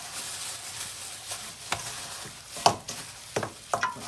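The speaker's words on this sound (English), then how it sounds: "let's get this seasoning mixed in really" Seasoning is stirred into the mixture for buttermilk fried pork chops, with soft scraping and several sharp knocks of a utensil against the bowl over a faint hiss.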